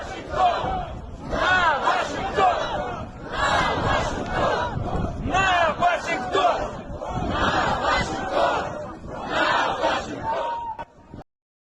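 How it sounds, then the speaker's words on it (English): A large crowd outside the U.S. embassy in Moscow chants and yells in loud, rhythmic unison, surging in repeated bursts for about eleven seconds before cutting off abruptly. "So this is the crowd right in front of the embassy, and they walking around with basically like a mock ICBM mascot yelling "Nuke Washington,""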